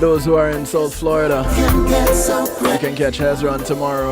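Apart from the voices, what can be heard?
No distinct noise like a dog, phone or traffic.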